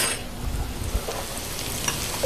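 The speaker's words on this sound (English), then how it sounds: "we're going to take a little bit of olive oil, and we're going to saute some" Bacon and olive oil sizzle in a pan, a steady close crackling hiss with a few brief louder pops, heard alone without talk.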